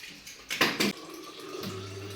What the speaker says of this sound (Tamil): இப்போ வாங்க வாட்டர் கேனில் தண்ணி பிடிச்சிட்டு வேலையை முடிச்சுக்கலாம்